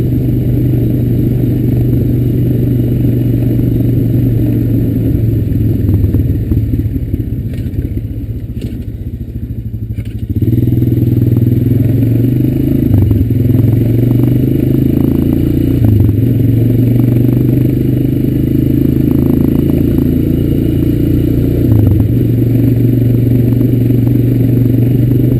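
A Honda Recon ES ATV cruising along in fifth gear, a steady loud engine drone with rattling and clatter from the ride, dipping briefly partway through before resuming at a constant pitch.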